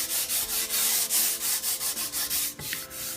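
Wooden cabinet door with a stain finish being hand-sanded between coats, a steady series of rhythmic scrubbing strokes, close and continuous, with no talking.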